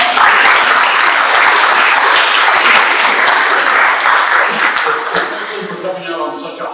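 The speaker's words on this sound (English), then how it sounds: "Give yourself a big round of applause." An audience at a history center talk breaks into a dense round of applause, loud and sustained for several seconds before thinning out near the end, with some voices mixed in.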